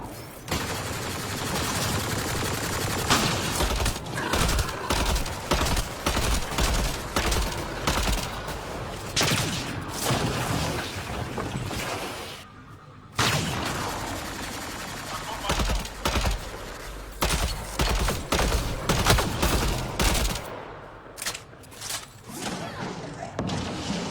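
Gunfire from Mass Effect: Andromeda game combat rattles in dense, rapid bursts and volleys for over twenty seconds, loud and close, with only a couple of brief lulls.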